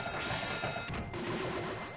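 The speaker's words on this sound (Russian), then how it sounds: "Даже вот звук от этих ножек, когда ты ими двигаешь, тоже какой-то реалистичный." Pinball flippers clack in the Fire Ball video game on the Panasonic 3DO, with a couple of sharp, close mechanical hits over a dense, bright game soundscape.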